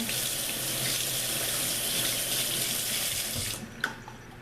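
Tap water runs steadily from a kitchen faucet into a sink as a brush is rinsed while making beef wellington, a continuous close hiss that stops abruptly near the end, followed by a brief clink.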